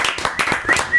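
An audience gives a brief, dense round of applause for a musician, many hands clapping at once up close.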